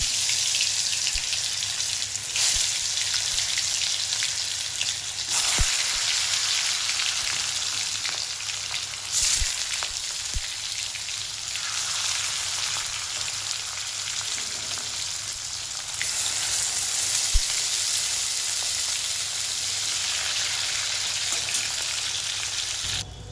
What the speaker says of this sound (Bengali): চিকেনটা এবার ফ্রাই করে নিচ্ছি।